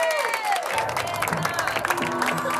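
Guests at a daughter's birthday party break into applause and cheering, a busy crowd clapping steadily throughout with voices and some background tones mixed in.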